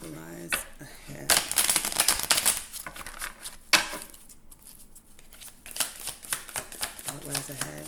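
Tarot cards are shuffled by hand in repeated riffling, flicking bursts, close and crisp, with a person talking over and between them.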